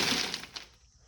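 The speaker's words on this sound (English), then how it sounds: "This door is full of broken glass from where they had to bust in." Broken glass from a door busted in during a garage fire, heard as a brief close crunching, crackling rattle of glass shards that fades within about a second.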